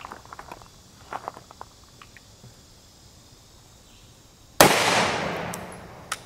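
A single sharp gunshot from a 9mm pistol with a 7.72 inch barrel, firing a Winchester Ranger T-Series 147-grain hollow point into ballistic gel outdoors, cracks loud near the end after quiet insect-filled ambience, then rings and fades.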